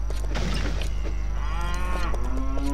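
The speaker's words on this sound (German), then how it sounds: "Kühe." Cows in the video game LEGO City Undercover let out a couple of loud, drawn-out moos over a constant low hum.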